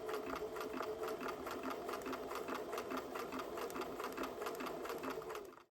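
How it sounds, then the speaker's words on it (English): Sewing machine running steadily while fabric is guided through to stitch a curve, a continuous even whirring hum with a fine rapid needle rhythm, fairly faint and close, stopping at the end. "Slowly push your foot down on the foot pedal and the sewing machine starts to go."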